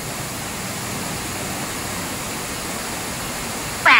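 An electric fan runs loudly and steadily in a room on the second floor of a mausoleum, a constant broadband whoosh throughout with a brief louder burst near the end.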